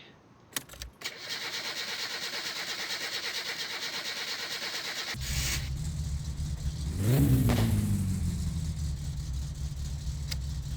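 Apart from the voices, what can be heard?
car engine starting and running, video game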